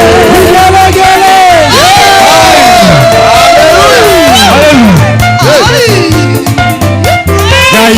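Worshippers at a deliverance church service break into loud, close ululation. Many wavering, gliding trills rise and fall over one another above a pulsing low beat of music and crowd voices.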